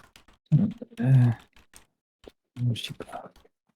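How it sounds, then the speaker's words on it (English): Brief bursts of computer keyboard typing come in short clicky runs between pauses, with faint grunts or voice sounds mixed in, near and fairly quiet. "I'm typing everything."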